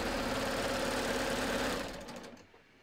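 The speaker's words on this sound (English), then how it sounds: "I'm just going to sew past the shoulder and then I'm going to stop" A sewing machine stitches a tee shirt shoulder seam in a fast, loud, steady mechanical whir that slows and stops near the end.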